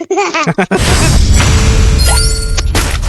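A loud grenade blast in the Free Fire video game bursts out after a few quick sharp sounds, followed by a sustained crashing roar and debris-like clatter.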